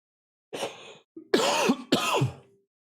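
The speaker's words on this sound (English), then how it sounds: "Sorry for the cough." A man coughs and clears his throat in three close, rough bursts, alone and loud against silence.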